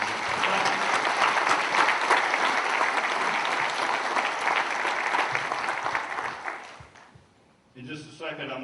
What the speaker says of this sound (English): So I think we need to give all of our young people that are here today, again, a round of applause